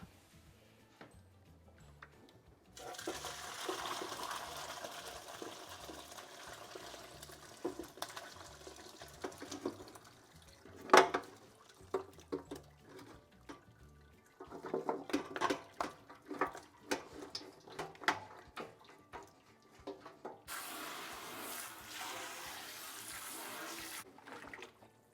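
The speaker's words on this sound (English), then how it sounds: "I'm going to strain everything out of the broth" Homemade bone broth strained and poured, with liquid splashing and running steadily through a strainer for long stretches, broken by clinks of pots and utensils and a brief sharp knock, moderately loud and close, no talk.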